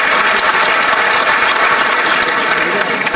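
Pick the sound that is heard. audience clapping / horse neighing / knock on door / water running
audience clapping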